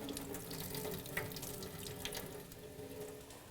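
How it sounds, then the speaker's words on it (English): Rice is rinsed under a running kitchen tap, with a steady, close splash of water filling and washing in a sink that carries on throughout with no talk. "You just wash your rice"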